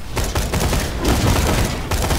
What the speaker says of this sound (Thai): ปืนกูแม่งยิงอย่างเจ๋งเลยเฮีย ยิงพื้นเลย